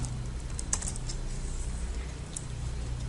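Brief quick keystrokes on a computer keyboard, a Ctrl+C copy shortcut, sound close and faint over a low background hum, with no voices.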